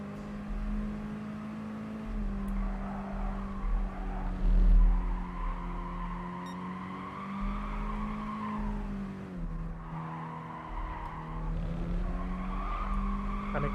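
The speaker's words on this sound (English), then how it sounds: "Am I getting too much wheel spin there?" A car in Gran Turismo Sport spinning its wheels under throttle, steady engine drone with tires squealing and skidding throughout, loud and close, no voices.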